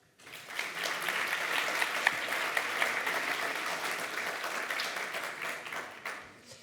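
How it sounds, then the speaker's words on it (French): Steady applause from a conference audience, dense clapping that swells quickly, holds for several seconds, then tapers off at the end. "Vous pouvez les applaudir."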